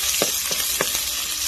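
Onion for ginisang ampalaya fries in a pan with a steady, close hiss, broken by a few soft clicks and scrapes as the pieces shift.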